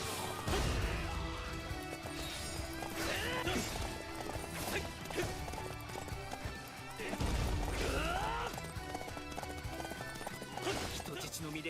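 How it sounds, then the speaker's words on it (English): Horses gallop with clip-clopping hooves and whinnies in Samurai Warriors 5, amid clashing battle impacts and dense game sound, with a voice talking over parts. "It is super cool to have horses in this one."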